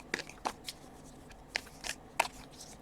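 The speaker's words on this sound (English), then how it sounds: "Shuffle up the cards." Tarot cards shuffled by hand in quiet riffles and slides, several short crisp bursts spaced unevenly, close and fairly soft, with no talking.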